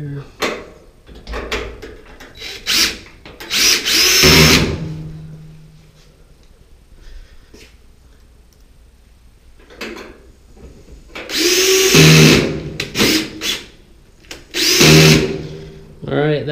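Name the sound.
power drill driving screws into a Samsung dryer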